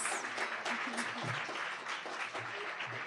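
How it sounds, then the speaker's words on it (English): Crowd at an education forum applauding, a steady bed of many hands clapping with faint voices underneath, continuous for the whole few seconds. "extra round of applause"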